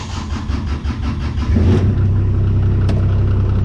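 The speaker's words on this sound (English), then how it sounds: "we're going to be driving the Kubota today and see what fuel she needs" A Kubota tractor engine turning over, then catching and settling into a loud, steady low rumble on a cold morning, close by.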